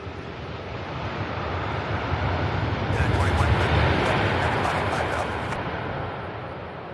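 An airplane lands at Louisville SDF airport after a long flight from Cologne, Germany, a broad roaring rush that swells and fades over several seconds, with wind noise buffeting the microphone.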